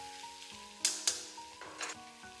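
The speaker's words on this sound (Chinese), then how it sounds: "接着倒入瀝乾水分的黃瓜，立馬轉大火，快速不停翻炒" Drained cucumber slices stir-fried with spices over high heat, heard as a soft sizzle broken by a few sharp bursts and scrapes as the pieces are tossed.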